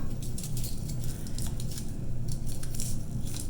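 Scissors cut a paper pumpkin in half, a run of light crisp snips and paper rustles close by over a low background hum, with no talking.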